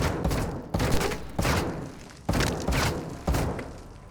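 Gunfire in the Modern Warfare 2 (2022) video game, a series of heavy booming shots spaced about a second apart, loud and close with brief decaying tails, with no talk.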